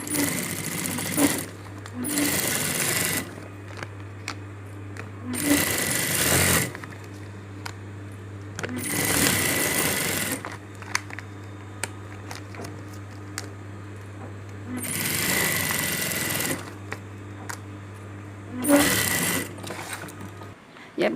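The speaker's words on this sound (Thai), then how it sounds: "เราจะเย็บขอบกระเป๋าด้านนอกก่อนนะคะ" A sewing machine stitches the outer edge of a bag sewn from a pet-food pellet sack, running in several steady whirring bursts of a few seconds each, separated by short pauses, with a constant low hum underneath.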